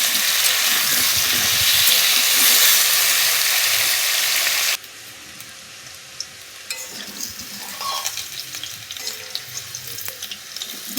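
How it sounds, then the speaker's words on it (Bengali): Potatoes fry in hot oil with a little salt, giving a loud, steady sizzle that drops away sharply partway through, then a quieter crackle with occasional light clinks. "আলুগুলোকে সামান্য লবণ দিয়ে ভেজে নিচ্ছি।"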